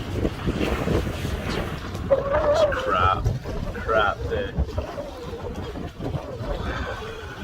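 Wind gusts and building waves slap around a sailboat under black skies, a rough, continuous rush with a person speaking over it.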